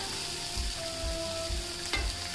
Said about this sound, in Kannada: ಅದು ಇವಾಗ ಚೆನ್ನಾಗಿ ಫ್ರೈ ಆಗಬೇಕು ಎಣ್ಣೆಲಿ